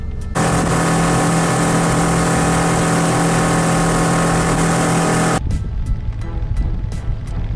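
A motorboat engine drones loudly and steadily nearby on a lake, then cuts off abruptly, leaving choppy water and wind noise.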